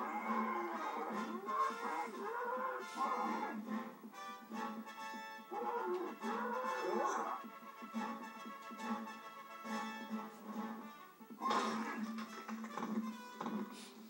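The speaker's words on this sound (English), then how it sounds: "And there's cow everywhere." Cows mooing in the video game Conker's Bad Fur Day, several drawn-out bovine calls overlapping against steady background game music and ambience, moderately loud and continuous.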